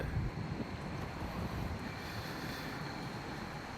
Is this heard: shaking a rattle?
no